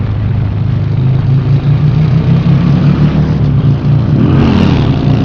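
A heavy Honda CBR sport motorcycle revs hard as its rear tire breaks traction during a failed wheelie attempt, a loud, close, sustained engine roar that surges and shifts pitch near the end.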